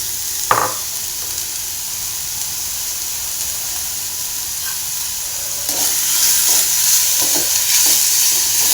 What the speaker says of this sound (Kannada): ಇದನ್ನು ಅಷ್ಟೇ ಸ್ವಲ್ಪ ಕಲ್ಲರು ಚೇಂಜ್ ಆಗೋರಿಗೆ ಫ್ರೈ ಮಾಡ್ಕೋಬೇಕು ನಾವು